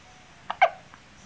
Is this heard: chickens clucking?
no